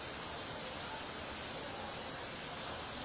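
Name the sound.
rain falling in Nagpur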